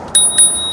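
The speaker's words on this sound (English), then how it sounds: "Even has a little bell right here." Small handlebar bell on an electric scooter rung twice in quick succession, two bright metallic dings with a lingering ring, close and clear.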